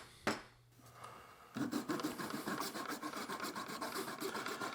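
A handsaw cuts through a wooden tenon in a mortise repair, pushing sawdust into wet glue. A short scrape and thump open, then steady rhythmic rasping strokes follow, close and continuous.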